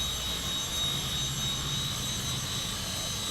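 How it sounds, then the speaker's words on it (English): Small Walkera CB180Z auto-stabilizing RC helicopter in flight, a steady high-pitched electric whine with a low rotor hum, close and constant. "you just saw the little flight demonstration of this new Walkera CB180Z"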